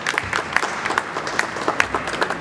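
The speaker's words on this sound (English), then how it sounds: "So can we give a round of applause for all of our interstate guests that are here." A crowd at an awards celebration applauds steadily, a close, continuous patter of many hands with a few louder individual claps standing out.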